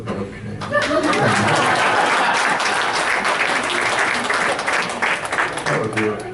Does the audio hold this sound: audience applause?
yes